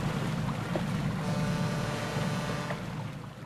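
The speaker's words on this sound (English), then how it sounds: "Liner." An ocean liner at sea, heard as a dense, continuous rumble of engine and rushing water with wind noise, loud and steady throughout before easing slightly at the end.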